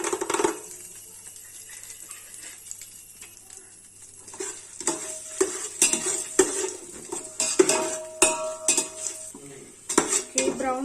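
Cashews and raisins are stirred in a pan for chicken dum biryani, with quiet sizzling at first, then repeated spoon clinks and scrapes against the pan growing busier and louder toward the end.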